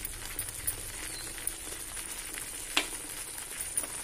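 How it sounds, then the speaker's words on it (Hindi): Tomato and onion masala frying in a pan, a quiet continuous sizzle with a few light scrapes and one sharp clink of a utensil midway. "जब ये मसाला हमारा भून, ये हमारा टमाटर और प्याज भून रहा है"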